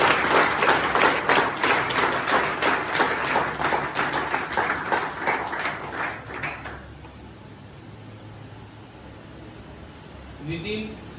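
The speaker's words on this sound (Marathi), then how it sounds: "आपण जोरदार टाळ्या त्यांच्यासाठी." Enthusiastic applause from a crowd at a Pune police welcome event, rapid dense clapping for about six seconds that fades out, followed by quiet and a brief voice at the end.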